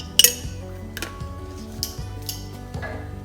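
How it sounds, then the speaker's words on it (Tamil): Dal fry is stirred in a metal pot, heard as a series of light clinks and scrapes of a spoon against the vessel, fairly close and moderately quiet, with no talking. "அப்படி சூப்பராக மிக்ஸ் பண்ணிடலாம்."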